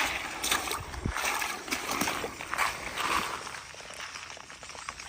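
A striped bass is released from a kayak on a river, with a few splashes and sloshing water nearby, some bumping against the hull and a voice briefly heard.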